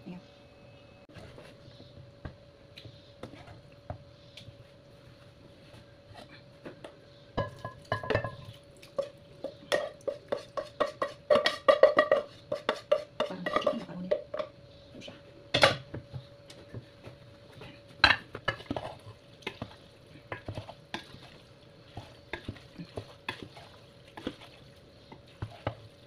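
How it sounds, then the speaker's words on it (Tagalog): Cooked macaroni being stirred into a homemade chicken sauce in a pan: scraping, clinking utensil-on-pan strikes and wet stirring, busiest in the middle, with a steady low hum underneath. "Ngayon, i-mix ko na po siya dito sa aking ginawa."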